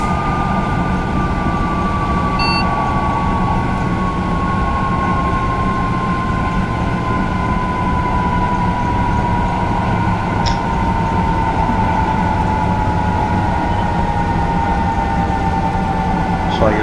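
A TGV high-speed train in the Train Simulator 2017 game brakes hard in an emergency stop, giving a loud, steady rumbling roar with a long, slowly falling tone that runs unbroken through the whole stretch.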